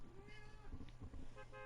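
A house cat meows faintly and briefly, a soft close vocalization over low background hum, with no talk.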